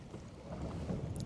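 A fishing boat on the Tombigbee idles slowly through shallow water during a bass tournament, giving a steady low engine rumble with wind buffeting the microphone throughout.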